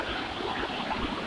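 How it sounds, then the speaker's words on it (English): A small waterfall at a resort in Wayanad, India, gives a soft, steady wash of running water, faint and distant throughout the short stretch. "Seems to be a waterfall. Here it is. Small waterfall."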